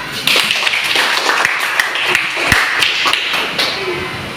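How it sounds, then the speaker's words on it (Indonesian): A classroom group of students clapping hands, brisk overlapping claps and taps close by, with voices murmuring underneath the fairly loud, busy patter. "Kalau kelompok 1, tepuk tangan."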